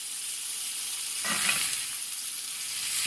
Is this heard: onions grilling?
yes